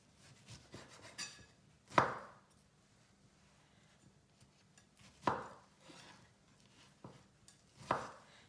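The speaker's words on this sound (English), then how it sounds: "So I'm going to cut off this top part here" A kitchen knife cuts the barky top off a pomegranate, giving three separate firm chops spaced a few seconds apart, close and clear over a quiet room.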